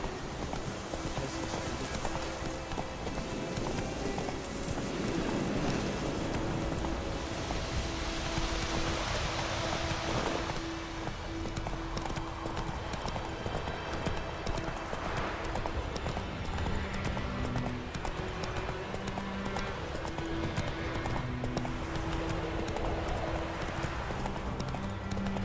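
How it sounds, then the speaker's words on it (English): Horse hoofbeats from The Witcher 3, a steady clip-clop gallop running throughout under continuous game ambience and music, with a brief whinny-like tone early on. "Run, Roach."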